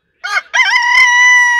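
A gray-feathered chicken with dark legs gives a short loud rooster-like crow: one brief opening note, then a long sustained call, close and clear with no talk.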